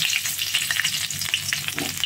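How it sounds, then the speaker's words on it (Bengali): Slit whole green chilies frying in hot oil, a dense continuous sizzle with crisp crackling pops, close and alone. "গোটা লঙ্কাটা চিড়ে দিয়ে একটু ভাজা হয়ে গেলে ক্যাপসিকামটা দেবো।"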